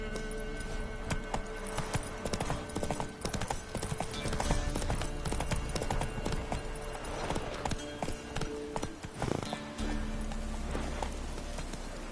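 Horse hooves trotting in a steady clip-clop rhythm, close and fairly loud, with an occasional snort and no talking.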